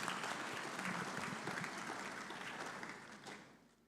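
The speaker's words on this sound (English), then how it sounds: "Please, a round of applause." A summit audience at an opening ceremony applauds in a dense, steady wash of clapping that holds strong, then gradually thins and fades toward the end.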